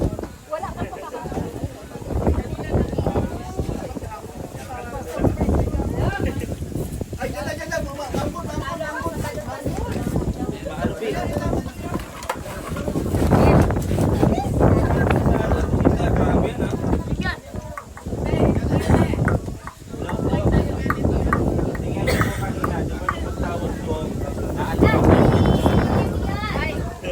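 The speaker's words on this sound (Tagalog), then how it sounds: "Lakas ng hangin." Strong wind roars and buffets a microphone outdoors, rising in loud gusts for nearly half a minute while people talk and call out over it.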